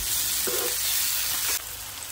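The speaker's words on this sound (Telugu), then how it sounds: "ఆనియన్స్ వేగిన తర్వాత 2 మీడియం సైజ్ టమాటా కట్ చేసుకుని వేసి" Two medium chopped tomatoes frying with onions, chillies, salt and turmeric in a pan for gongura curry, a short, close, steady sizzle with a brief stir that drops slightly in level near the end.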